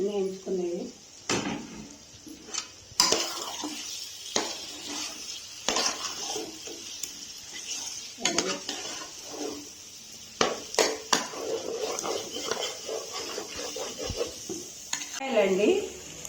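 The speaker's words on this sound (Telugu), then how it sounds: "పుదీనా, కొత్తిమీర అన్నీ వేయించుకున్నాయేనండి" Mint and coriander fry in a pan for a red chicken curry, heard as repeated metal spoon scrapes and clanks against the pan over a light sizzle, close and uneven, with a voice speaking at times.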